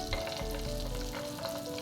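Butter sizzles and fries steadily in a hot pan for butter garlic eggs, a close, continuous crackling with light bubbling and no voices.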